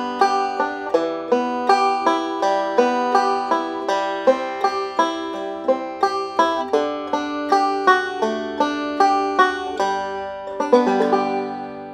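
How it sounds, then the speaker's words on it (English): Five-string banjo finger-picked in a steady rolling pattern through a chord progression, bright plucked notes ringing in an even rhythm, played solo and close with no talking. "So I'll just take that same progression and apply a finger-picking pattern to it that sounds like this."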